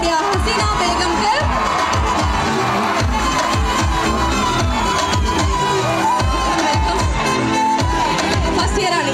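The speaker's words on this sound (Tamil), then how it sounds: "ஒரு பலத்த கரகோஷம் கொடுத்தலாம்" A large college audience at the Lumina cultural fest cheers loudly and steadily, with shouts, whoops and dense crowd noise that stay close and sustained throughout.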